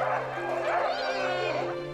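Sled huskies give yipping, whining bow-wow calls that overlap continuously at close range, with several dogs sounding excited together before a race.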